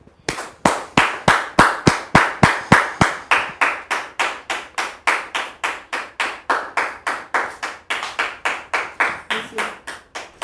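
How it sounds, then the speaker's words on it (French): A TV studio audience welcomes a guest with loud rhythmic clapping in unison, sharp, evenly spaced claps at roughly three per second keeping a steady beat for about ten seconds. "On va recevoir donc Dame Rebecca sous vos applaudissements"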